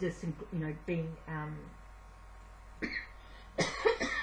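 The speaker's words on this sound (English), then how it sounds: "sorry, a bit of a cough there." Speech runs at the start, then after a quiet pause come a couple of short, sharp coughs close to the microphone.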